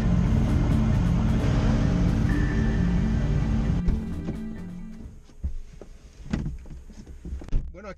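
Mercedes-AMG GT R sports car on a test track at Paderborn, Germany: a loud, sustained engine roar for about four seconds that suddenly cuts to quieter, intermittent mechanical knocks and clunks.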